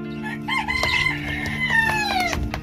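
A hen clucking and calling nearby while being set to sit on eggs, with a drawn-out rising then falling cry, fairly loud and alone without talk.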